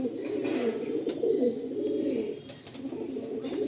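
Pigeons of a show-quality pair, a red-headed male and black-headed female, coo softly and steadily close by, with low murmuring calls running throughout and a few faint clicks above.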